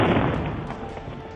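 A burst of gunfire ending in an explosion at a political rally: sharp reports run together into a heavy blast with booming low rumble and crowd noise, all packed into about a second and a half.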